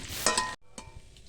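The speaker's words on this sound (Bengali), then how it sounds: "কড়াইতে বেশ খানিকটা সর্ষের তেল গরম করে নিই, ওই চিংড়ি মাছগুলা দিয়ে নাড়ি চাড়ি ভালোভাবে লাল লাল করে ভাজি তুলে নেব" Shrimp stir-fry in hot mustard oil in a wok, heard as a close, bright sizzle with two scraping stirs, then a sudden drop to a quieter fry and one more stir.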